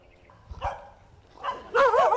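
Stray dogs from a large pack of more than a hundred in Songkhla, Thailand, bark and yip in short bursts, with a louder flurry of overlapping barks at the end, heard at moderate distance.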